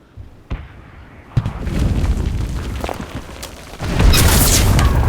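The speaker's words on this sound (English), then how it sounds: "Got a damn cannon pointed at us." Cannon fire in the World War II shooter Enlisted: a few sharp booms punch out, followed by heavy rumbling battle noise that swells louder toward the end.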